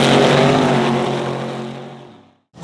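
A loud dragster engine roaring at a drag racing meet, one sustained powerful blast close by that fades over two seconds before cutting off, followed by a brief new burst at the end.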